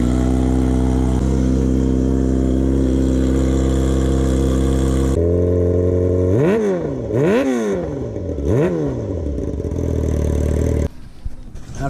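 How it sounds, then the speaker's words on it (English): A Yamaha R6 sport bike with a freshly fitted straight-piped exhaust idles loudly and steadily, then gets several sharp blips of the throttle that rise and fall before settling back to a rough idle. "So we're just gonna let the bike idle for a little bit."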